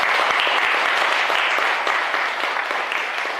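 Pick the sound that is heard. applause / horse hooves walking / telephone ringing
applause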